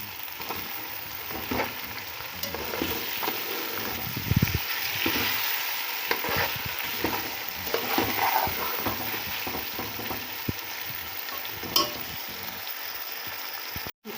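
Aloo matar pulao with green chili, vinegar and soy sauce sizzles steadily in the pan, with the scrape and clatter of stirring rising over the continuous close frying hiss.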